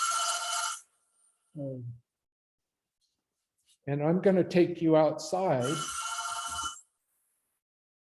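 An old-style telephone bell rings loudly in two bursts, one at the start and one near the end, with someone talking in between; the ring overlaps the end of his speech.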